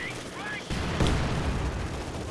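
Machine gun fire crackles through a Company of Heroes 2 battle between Wehrmacht and Soviets at Lazur Factory, a sudden loud burst of gunfire joined by battlefield rumble.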